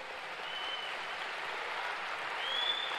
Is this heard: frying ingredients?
no